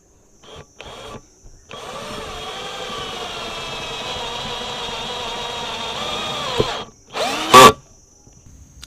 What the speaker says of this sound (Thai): ก็มาลองขันเหล็กกลองกันบ้างนะ